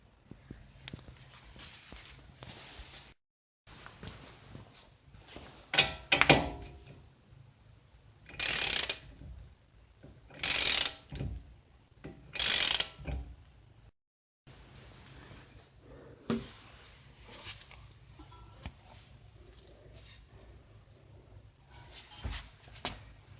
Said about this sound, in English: Once I turn the lug nuts, this side gonna get pulled over here.